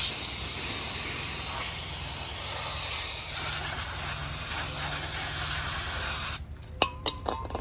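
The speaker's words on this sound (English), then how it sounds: "You want to clean them off with some brake cleaner." Brake cleaner sprays in a steady, close hiss onto a brake rotor of a 2016–2019 Chevy Cruze, Bolt EV or Volt during a brake job, stopping abruptly and followed by a few small clicks and taps.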